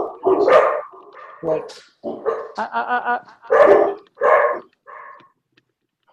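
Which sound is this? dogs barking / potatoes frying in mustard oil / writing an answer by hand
dogs barking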